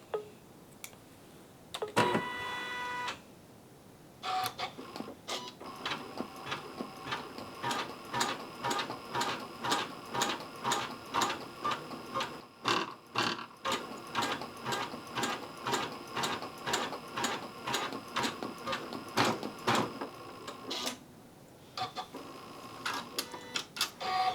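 A Janome CM17 embroidery machine stitches a design in rapid, steady mechanical pulses, pausing briefly near the start and again midway before resuming its regular clatter; close and alone, with no talking.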